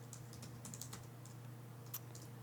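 Soft, rapid clicks of typing on a computer keyboard patter steadily and quietly over a low electrical hum, with no voices.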